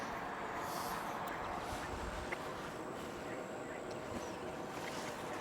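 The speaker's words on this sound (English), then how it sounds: "The catfish is making big waves." Catfish churn the water into big waves, giving a continuous broad wash and lapping close by, with a few faint clicks on top.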